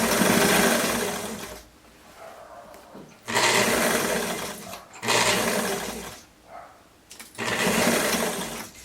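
A home sewing machine runs in bursts while stitching the finish on a gypsy-style jumpsuit, four loud whirring runs separated by quieter pauses, close up.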